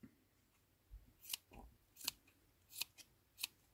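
Scissors snip through pompom yarn in four or five sharp, close cuts spaced about half a second apart, heard alone against a quiet background while trimming a craft pompom from an Action store kit.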